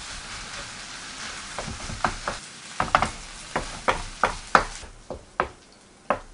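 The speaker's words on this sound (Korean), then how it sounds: "다 후라이팬에 때려박고 밥 넣어주고 볶아 먹을까?" Rice and black bean noodles are stir-fried in a frying pan, with a spatula knocking and scraping the pan about a dozen times in an uneven rhythm over a soft, steady sizzle, close up and without talk.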